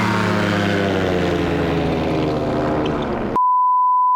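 A two-cylinder engine on a homemade ultralight manned aircraft, running slightly out of balance, gives a steady, loud, buzzing drone for about three seconds. A flat electronic beep tone then cuts in and holds to the end.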